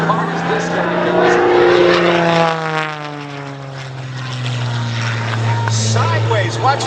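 A propeller aerobatic airplane flown in an air show routine, its engine drone rising and falling in pitch as it passes and maneuvers, loud and continuous, with an announcer talking over it.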